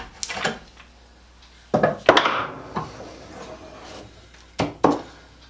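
Hand brace turning a 1-inch bit through wood, finishing a cut from the second side after a pilot-screw start: a few separate woody scraping, cracking bursts with quiet gaps between, close and fairly loud.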